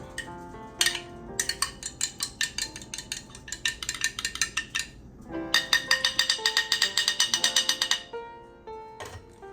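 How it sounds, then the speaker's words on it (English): A utensil whisking one egg with milk in a bowl for a fried gizzard batter, heard as fast rhythmic clinks against the bowl in two long bursts, close and clear. "So I'm stirring this up"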